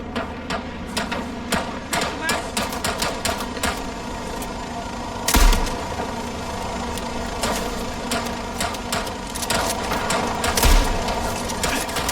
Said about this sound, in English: Let's shoot it!